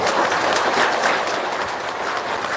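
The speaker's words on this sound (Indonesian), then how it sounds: "Tepuk tangan dong buat anak-anak yatim sini" Applause for orphan children at a gathering, a steady wash of clapping from a crowd that holds at an even level throughout, with no single claps standing out.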